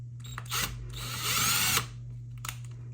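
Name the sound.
power drill drilling a hole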